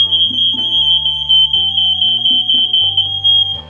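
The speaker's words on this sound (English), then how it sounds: "Fire alarm's going off." A kitchen heat detector fire alarm sounds a steady, loud, high-pitched electronic tone throughout, continuous and unbroken over quieter background music.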